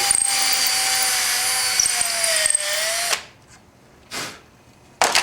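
A power drill bores out and widens a hole in a BMX pedal, whining loudly and steadily for about three seconds, then stopping, followed by two short bursts of the drill spinning up again.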